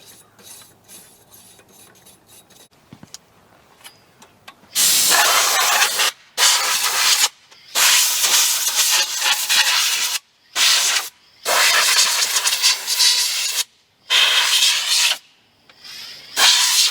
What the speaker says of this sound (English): I did bring a little wire brush with me.